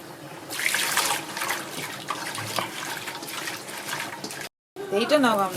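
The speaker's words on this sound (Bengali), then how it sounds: "ভালো করে ধনে পাতাটা ধুয়ে নি" Fresh coriander leaves rinsed under a running kitchen tap: a steady, fairly close splash of water lasting several seconds, then a short break and a voice.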